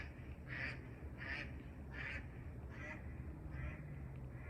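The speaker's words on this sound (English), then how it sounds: "Fucking geese." Waterfowl calls ring out about five times at a steady pace, each short nasal honk like geese, moderately near over a constant low rumble of background noise; no talking.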